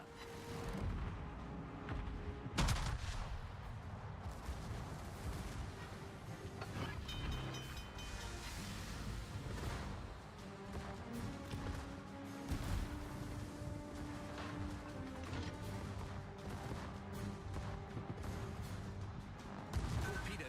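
Naval guns in a warship video game fire a salvo, heavy booms rolling over a dense, continuous battle din of engines and sea, with a sharp blast near the start and further thuds throughout.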